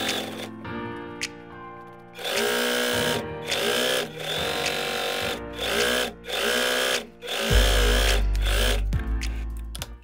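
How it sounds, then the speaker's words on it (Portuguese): A sewing machine stitches fabric for a door draft stopper, running in several loud, steady bursts with short pauses between runs and no talking. "Eu vou costurar aqui, você vai ver."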